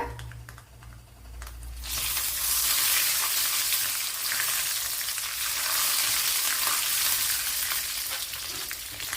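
After a quiet moment, hot oil bursts into loud, dense crackling as mustard seeds splutter and pop rapidly, continuing steadily up close.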